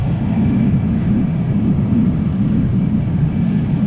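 An Aegean Airbus A321neo at Amsterdam Schiphol produces a loud, steady low-pitched jet rumble, dense and even for the whole stretch with no voices over it.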